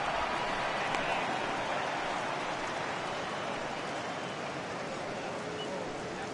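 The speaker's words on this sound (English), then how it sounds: "that rain is really coming down right now" Heavy rain pouring down at a baseball stadium, a dense, even hiss of falling drops that stays steady and fairly loud from start to finish.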